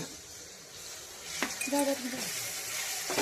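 Sugar sizzles in hot mustard oil in a pan with a soft, steady hiss, broken by a few clinks and scrapes of a utensil against the pan.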